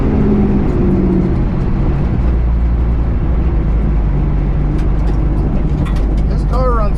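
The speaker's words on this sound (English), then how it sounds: "This car runs so much better here." A race car engine runs hard and close, a loud steady roar with a shifting pitch as the car drives on, and a brief squeal near the end.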